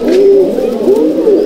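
Pigeons of the Malbai/Panjabi breed in a loft coo close by, with soft rising and falling throaty calls repeating twice over a low background murmur.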